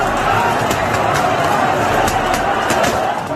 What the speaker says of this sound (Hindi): बांके बिहारी मंदिर में श्रद्धालुओं की भीड़ इस कदर उमड़ी